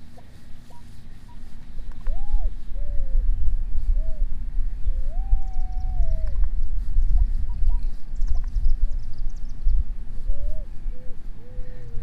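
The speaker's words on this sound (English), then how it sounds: "I'm getting a little high chirp here." A metal detector sweeping the ground at a church gives several short rising-and-falling high chirps, then one longer sustained tone, and later a few more brief chirps, all over a steady low rumble of outdoor background noise.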